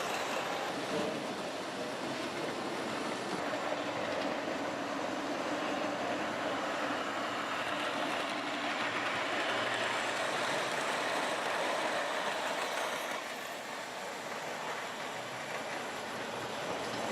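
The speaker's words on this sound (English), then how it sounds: "These 2 trains are only remotely controlled by the push of 2 yellow buttons." Two remote-controlled model trains run continuously on a layout track, giving a steady, even rumble at moderate level that lasts throughout with no speech.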